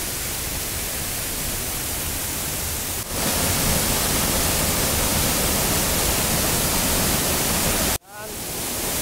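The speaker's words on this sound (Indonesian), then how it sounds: "Dan inilah air terjun Dono." Dono waterfall near Batu Ampar village roars as a steady, loud broadband rush of falling water, continuous throughout, briefly dipping near the end with a short burst of movement.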